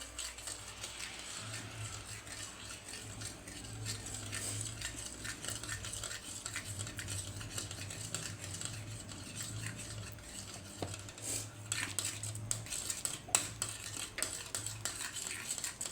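Gram flour batter for pithla stirred in a pan with a ladle: soft scraping and clinking strokes in an uneven rhythm over a low sizzle, close but fairly quiet, with no speech.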